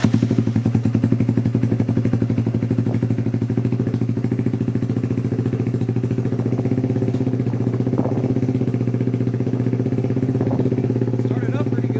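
A Kawasaki Z125 PRO motorcycle fitted with a Dynojet Power Commander 5 runs at a steady, loud idle, its even low engine drone and light mechanical clatter continuing close by without pause.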